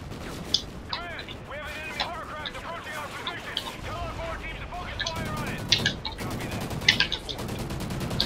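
Rifle gunfire in Call of Duty: Ghosts, scattered sharp shots and short bursts crackling in the background under near-constant talking, with a few louder cracks toward the end.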